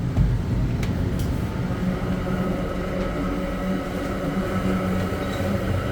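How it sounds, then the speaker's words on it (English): Inside an exo commuter train on the Mascouche Line in winter, the passage between rail cars fills with a loud, continuous rumbling roar of wheels and couplings, steady and close throughout. "it will be a bit noisy because we are going in between the rail cars"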